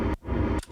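A house-track inhale-like noise sample, chopped and looped with kickstart sidechain ducking, swells in short breathy pulses that dip sharply in rhythm, brief and quiet.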